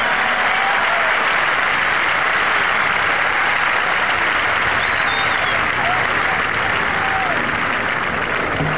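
A large crowd at Yankee Stadium during Old Timers Day cheers and applauds, a dense, loud, unbroken wall of clapping with scattered whistles and shouts that holds steady the whole time.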